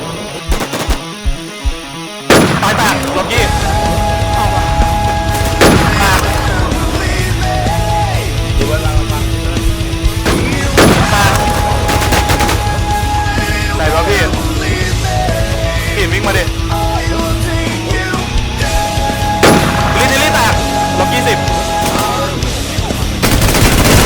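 Gunfire in the online zombie survival video game Infestation: after a brief opening, dense rapid bursts of automatic weapon fire and sharp single shots continue loudly and almost without pause, with scattered other game sounds.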